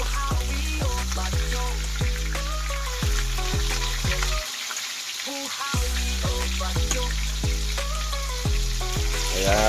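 Talakitok fish fries in a pan of hot oil, a continuous close sizzle with repeated pops and bubbling crackles, briefly dropping lower in the middle before the full fry resumes; no talking over it.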